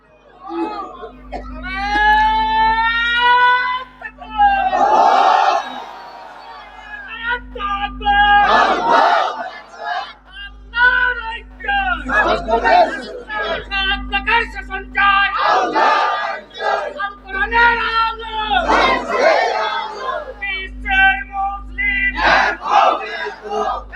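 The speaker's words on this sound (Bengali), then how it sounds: "একজন তাকবীর দেন তো দেখি" Crowd at an Islamic sermon gathering (waz mahfil) shouting takbir in loud repeated collective bursts, alternating with a preacher's amplified voice over a steady hum.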